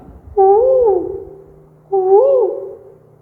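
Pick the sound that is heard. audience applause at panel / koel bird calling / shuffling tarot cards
koel bird calling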